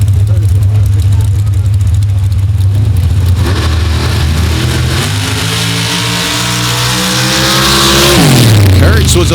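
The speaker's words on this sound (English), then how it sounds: "87 CJ7 with a 632 cubic inch big block Chevy" 1987 Jeep CJ7 dragster with a 632 cubic inch big block Chevy at a Gore Springs drag race, a loud engine idling rough, then revving and climbing hard before cutting sharply, with an announcer talking over it.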